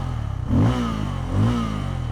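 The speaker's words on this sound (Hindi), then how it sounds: "देखो बाइक को फास्ट में स्टार्ट करता हूँ" Bajaj Pulsar N250 motorcycle with a 249 cc single engine, idling close by and given two quick throttle blips about a second apart, with no talking.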